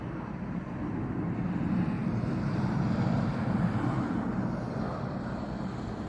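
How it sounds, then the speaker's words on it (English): A plane approaches to land at LaGuardia Airport in New York City, heard as a steady, even roar mixed with wind noise on an outdoor mic, with no voices over it. "as a plane comes in to land in LaGuardia Airport"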